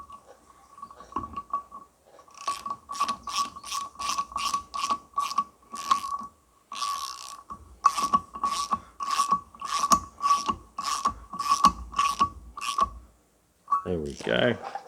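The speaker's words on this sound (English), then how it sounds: "Nip that up with my little shifter there." A small adjustable spanner tightens bolts while a John Deere 1640 flywheel and clutch are fitted. It produces a long run of quick, evenly spaced ratcheting clicks in close-up bursts, with short pauses between them.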